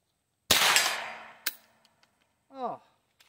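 A single sharp shot from a Palmetto State Armory AR pistol fitted with a CMMG .22LR conversion kit cracks close by at an outdoor range, with a fainter second report, followed by a brief voice.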